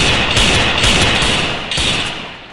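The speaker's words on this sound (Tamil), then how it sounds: "அழுத்து கொஞ்சம் புல்லட் விடு" Video game gunfire, a dense rattle of overlapping shots bursting repeatedly across the whole stretch, loud and close, with a slight easing toward the end.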